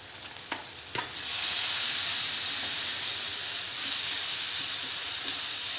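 Spices and salt sautéing in a pan for sarson da saag give a steady sizzle with a few sharp stirring clicks near the start, then settle into a continuous close-up frying hiss with no voices.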